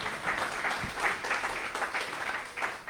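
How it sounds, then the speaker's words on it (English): A church congregation applauds, a steady, moderately distant wash of clapping that holds evenly for a few seconds without talk. "Let's give a round of applause to our good friend Rick Busby."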